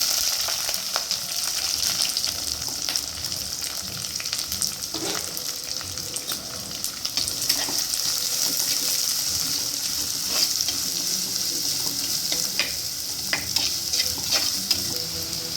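Steady sizzling of onions, green chillies and curry leaves frying in hot oil, continuous and close, with occasional stirring scrapes and crackles; no talking.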